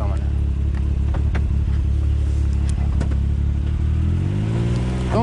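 A side-by-side UTV idles and revs while backing up over ice and water, its engine rumbling steadily close by with a rising pitch near the end as it accelerates.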